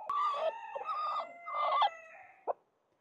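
A hen guarding her eggs clucks and squawks in agitated, drawn-out bursts, three or four loud calls close by, ending with a short sharp cluck before silence.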